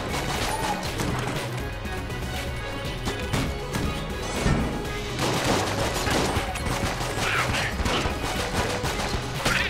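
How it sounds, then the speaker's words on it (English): Rapid gunfire from the Single Action Army revolver in the video game Enter the Gungeon, dense repeated shots and crashing impacts layered with game music and effects, continuous and loud throughout. "Single action army."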